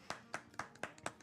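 Bare hands clap about six times at a steady, even pace, each clap sharp and fairly faint, with no voices over them.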